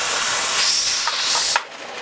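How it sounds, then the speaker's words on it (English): Steam hisses loudly and steadily from the vent of a pressure canner boiling on the stove, a broad continuous rush that cuts off abruptly near the end, leaving a quieter hiss. "You can hear the steam coming out louder."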